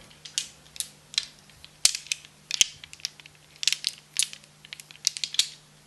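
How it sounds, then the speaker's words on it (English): Glass and ceramic beads handled and rummaged up close during a jewelry show-and-tell, with bursts of crisp clicking and clinking in irregular clusters and a few sharp isolated ticks. "It's like some glass beads and ceramics together."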